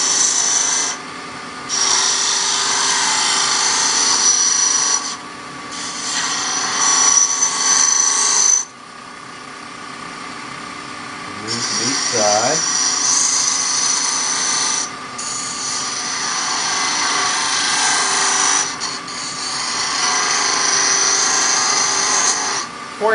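A wood lathe shaping a coffee scoop with a scraper, a loud steady hissing scrape that cuts out and resumes in long passes, with a brief pause and a short voice between.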